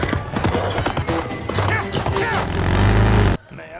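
A horse gallops through a subway tunnel with a train bearing down, hooves clip-clopping rapidly among crashes and film-score music, building to a loud burst before an abrupt cut.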